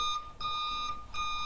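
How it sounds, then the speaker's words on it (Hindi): A toy delivery scooter's fuel-empty indicator rings out repeated electronic ding tones, three bright chiming beeps in a steady pattern, close and clean with no talk over them. "ये हमें लगता है कि फ्यूल खत्म होने का इंडिकेशन है"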